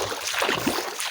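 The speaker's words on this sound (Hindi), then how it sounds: "तो गैस आपको पानी की आवाज़ भी सुनाई दे रही होगी।" River water sloshing and splashing around someone wading through it outdoors on a cold, windy day, a steady close wash of water with no talk.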